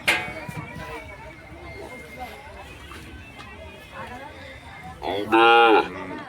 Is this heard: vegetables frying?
no